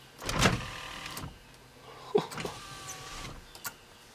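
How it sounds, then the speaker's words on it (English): Power windows motoring briefly on a 350SS car, with two short whirring runs and a few clicks and thumps between them, close by. "Let's see if our windows go up and down."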